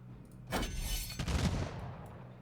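Mortar fire in Humankind, a strategy game: two quick booming bursts about a second apart, each with a short rumbling tail, fairly faint overall.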